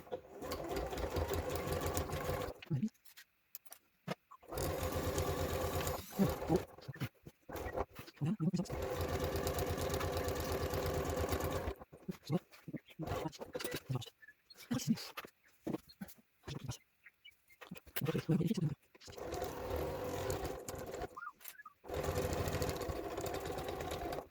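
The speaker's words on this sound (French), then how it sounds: "On met dessus et on coud au bord." A sewing machine stitches along the edge of a round bag made from placemats, running in loud bursts broken by short pauses while the seam is guided.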